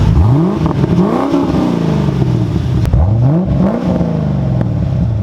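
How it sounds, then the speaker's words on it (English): A 1991 Corvette engine with a full-bore exhaust revs repeatedly up close, with loud, rising and falling throaty sweeps and no talking. "So my dad went ahead and put on a full bore exhaust."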